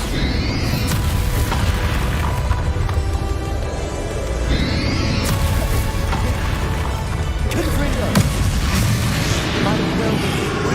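Magic spell explosions from Bombarda and Confringo in Hogwarts Legacy, dense booming blasts and crashes layered over continuous game noise and music, with voices talking throughout.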